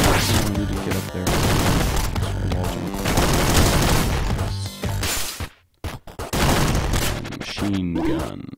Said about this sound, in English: Machine gun.